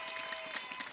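Studio audience applause on an Indonesian TV comedy show, a dense steady wash of clapping held at even loudness throughout.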